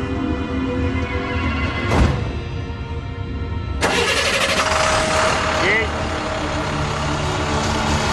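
A car engine turns over and settles into a rumbling idle as the driver pulls away, with a door-like thump before it and a narrating voice talking over the whole scene.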